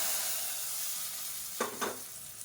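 Seasoning vadagam hits a hot pan of kulambu with two quick, loud sizzling bursts over a steady low background hiss, with no voices.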